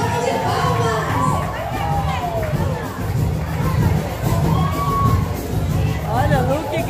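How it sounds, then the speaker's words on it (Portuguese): Crowd at a shopping mall event greeting a VIP guest, with a dense roar of cheering, shouting and babble in which clapping is hard to pick out, loud and continuous throughout. "Uma salva de palmas!"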